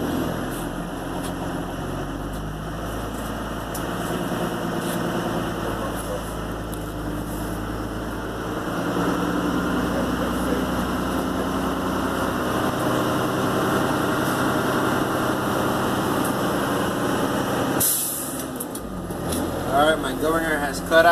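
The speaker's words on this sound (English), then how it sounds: "Now I will turn on the engine to build air pressure to maximum capacity," A truck engine runs steadily and revs up to build air brake pressure, a continuous low rumble that grows louder partway through and holds near at high idle.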